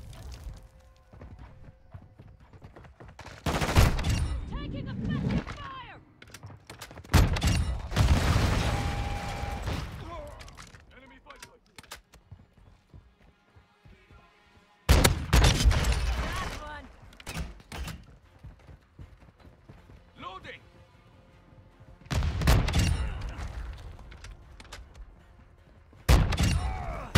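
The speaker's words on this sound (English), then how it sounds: "Taking effective fire!" Gunfire in Modern Warfare 2: loud bursts of rapid shots in several clusters spread over half a minute, separated by quieter stretches with mechanical clatter and occasional voices.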